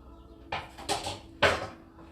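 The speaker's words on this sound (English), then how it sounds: "Let me get the pan for the chili." A pan clanks out of a kitchen cupboard for making chili: three distinct metallic knocks and scrapes, near and moderately loud, spaced about half a second apart in an otherwise quiet room.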